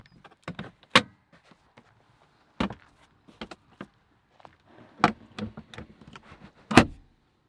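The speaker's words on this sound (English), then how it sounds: "I'm probably going to put the roof up and see what that's like." A 2022 Mazda MX-5 GT Sport Tech soft top being raised by hand, with a series of sharp clicks, latches and thumps spread over several seconds amid quiet pauses, close by.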